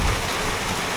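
Heavy rain pours steadily close by as several people shelter under a small shopfront during a downpour, a dense continuous wash of falling water with no talk over it.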